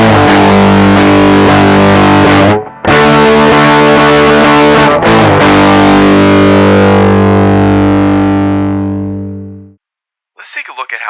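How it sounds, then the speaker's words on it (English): A heavily distorted electric guitar through a RAT-style distortion pedal plays sustained, buzzy chords with a gritty, fuzz-like edge, briefly cutting out twice before ringing out and fading. "creating some nearly square wave patterns that impart a quality right at the borderline between fuzz and distortion"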